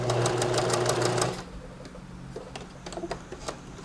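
A sewing machine stitches appliqué on a Halloween treat basket, running in a fast close whirring burst for over a second before stopping, followed by a few faint clicks and taps.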